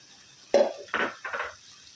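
Stirring jaggery into anapakaya halwa in a pan, three short scraping strokes of a utensil against the pan in quick succession, close and fairly quiet.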